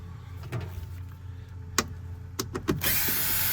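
Bolts being loosened beneath the carpet of a 2016 Ford Transit 150 van, with a few sharp ratcheting clicks and metallic taps close by, ending in a brief steady whir.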